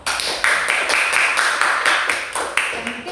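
Students in a classroom clap for a presenting group, a brisk run of close, sharp handclaps in quick rhythmic bursts, loud and sustained before tapering off.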